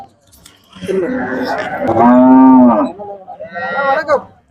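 A cow mooing at a busy cattle market, two long loud moos close by, the second shorter, with faint crowd noise beneath.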